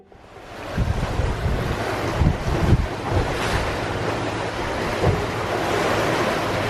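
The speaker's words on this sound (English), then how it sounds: "We've got a beautiful, steady 11-knot breeze." Sea waves washing against a sailboat under way off Turkey in a steady 11-knot breeze, a continuous rushing wash with wind buffeting the microphone and a few surges, no voices.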